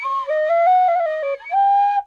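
A cheap $3 whistle from Mexico plays a short wavering melody, breathy and slightly out of tune, with two sustained phrases separated by a brief gap, clear and close.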